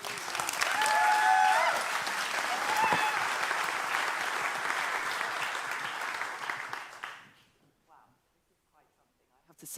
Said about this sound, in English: Please give an applause for Julia Sullivan.